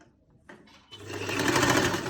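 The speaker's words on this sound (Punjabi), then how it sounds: "ਹੁਣ ਆਪਾਂ ਤੀਰੇ ਵਾਲੀ ਸਲਾਈ ਲਾਉਣੀ ਹੈ" A sewing machine runs an arrow-style (tira) seam along a garment neckline, starting with a few short bursts before settling into a steady, close, continuous whir that grows louder toward the end.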